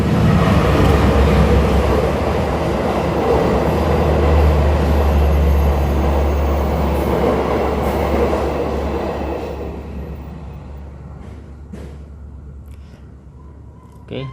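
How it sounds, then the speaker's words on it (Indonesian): A train rumbles loudly past nearby with a deep, continuous roar and rattling wheels, gradually fading as it moves away. "Mohon maaf ada kereta lewat sebentar."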